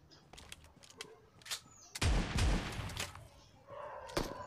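Gunfire in the mobile battle royale game BGMI (PUBG Mobile): scattered quiet clicks and pops, then a loud burst of rapid shots with heavy booming thumps, fading and returning with a few more distant cracks.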